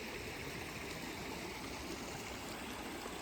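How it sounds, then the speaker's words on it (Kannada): A small stream flows through a botanical garden, giving a steady, even rush of water that stays constant and fairly soft, with no voices. "ಹೊಳೆ ಅಲ್ಲ, ಇದು ತೋಡು"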